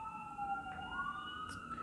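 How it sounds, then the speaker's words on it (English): Emergency vehicle sirens wail outside, a rising and falling tone sustained through the stretch at moderate distance, heard alone without talk over a faint background hum. "sorry about the sirens going on here."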